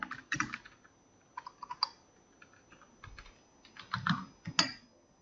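A password is typed on a computer keyboard to log in, heard as scattered, close key clicks in short irregular bursts with quiet pauses between, no talk.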